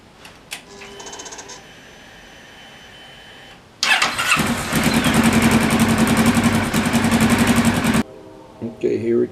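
A Kawasaki Ninja motorcycle cranks with a starter whir, catches and settles into a loud, steady engine run for several seconds after an oil service. The engine then cuts off, and brief voices are heard around it.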